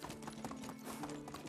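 Hooves clip-clop in a quick, steady rhythm as a horse travels along an open road in the video game Medieval Dynasty, fairly quiet and alone.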